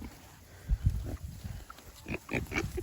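Kunekune pigs give a few soft, close grunts and snuffles outdoors, quiet and irregular, with faint shuffling between them.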